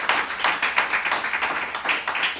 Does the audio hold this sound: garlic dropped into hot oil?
no